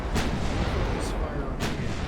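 Naval artillery from 1890s Russian warships in Ultimate Admiral: Dreadnoughts booms in three heavy, evenly spaced shots over a dense rumbling battle backdrop, with a voice talking throughout.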